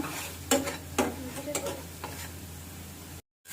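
Onion paste and spices sizzle in a pan for egg korma, with scraping stirring strokes at a steady rhythm over a continuous low fry, close and moderate, before a brief cut to silence near the end.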